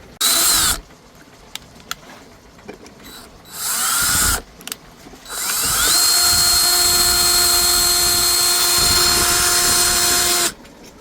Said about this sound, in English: Just drill them out a little bit with our drill